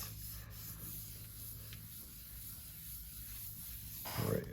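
A hand rubs and smooths paper over a gel plate for an image transfer, a soft, quiet, continuous scratchy rubbing close by, ending in a brief louder scuff.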